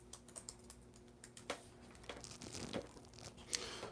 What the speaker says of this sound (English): I'm just going to type a message.